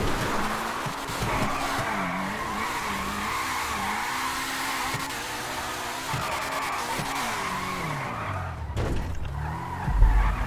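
A car in the FiveM video game drifts with sustained tire skidding and squealing over a revving engine that rises and falls in pitch, continuous and loud throughout.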